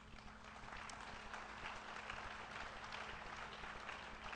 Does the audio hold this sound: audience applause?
yes